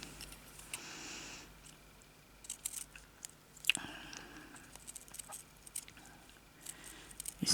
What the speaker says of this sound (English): I'm going to cut a bit off this.